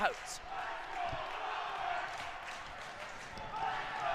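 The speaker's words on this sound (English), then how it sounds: "You listen to this Romans crowd" A smaller Chicago Romans crowd cheers loudly in an ice rink during 4-on-4 overtime of a high school hockey semifinal against Prep, a sustained roar of many voices with a commentator talking over it.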